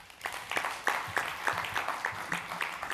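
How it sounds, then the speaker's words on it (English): An audience applauds after a presentation at a startup event, the clapping irregular and fairly close, with distinct individual claps standing out over a softer crowd patter. "let's give another big round of applause"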